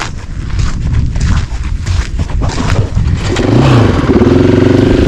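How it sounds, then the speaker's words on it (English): Motorcycles starting off on a memorial ride toward a desert ridge, engines rumbling and then rising into a steady, loud revving drone as the bikes pull away close by. "We're gonna hop on our bikes and head over that ridge"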